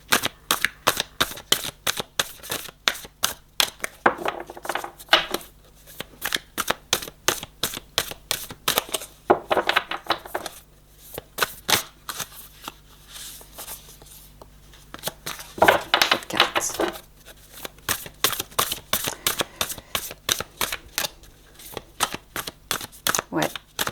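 Tarot cards shuffled and laid over repeatedly, a long run of close crisp flicks and riffles in steady rhythm with brief pauses, and a voice speaking now and then.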